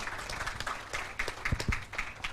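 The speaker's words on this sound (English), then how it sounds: "Give an applause to Pak Arya Wibawa" Applause at a diplomatic forum as a speaker is honoured, a steady patter of clapping from a modest audience sustained for a couple of seconds with no talk over it.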